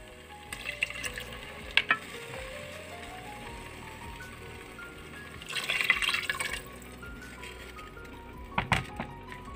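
Water poured into a pan of sizzling chicken tikka masala, with oil and ghee crackling steadily and a louder burst of hissing and bubbling midway, plus a few sharp clinks of a spoon.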